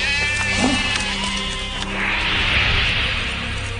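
Sheep and goats bleat in a mixed, wavering chorus, several animals calling close together over a steady outdoor background.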